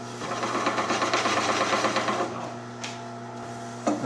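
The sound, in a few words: wood lathe turning a table leg with a skew chisel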